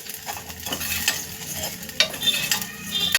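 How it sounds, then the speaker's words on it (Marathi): Vermicelli is roasted in a spoonful of oil in a pan for kheer, with a light continuous sizzle under quick stirring scrapes and a couple of sharp metallic clinks of a spoon against the pan. "आता आपण ह्यामध्ये एक चमचा तेल टाकून ह्या शेवया भाजून घेऊया"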